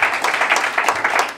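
A church congregation at a prayer and fasting service claps for the Lord, giving a dense, steady round of handclaps with rough rhythmic surges that carries on throughout.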